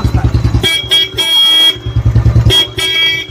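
A modified aftermarket motorcycle horn honks in loud, repeated blasts, close by, alternating with the rapid putter of the idling motorcycle engine.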